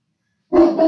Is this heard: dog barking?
yes